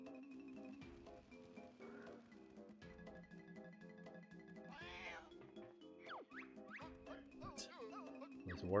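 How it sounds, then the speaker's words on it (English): An angry cat from the Banjo-Tooie video game yowls and hisses in short, rising cries over the game's looping background music, fairly faint in the mix. "That angry cat sound effect is just too good."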